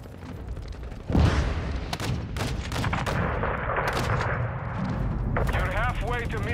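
Heavy aircraft gunfire from a VTOL, chopper gunner or AC-130 style attack in a military video game: repeated booming cannon and artillery-like blasts over a steady rumbling drone, with radio chatter voices around the shots.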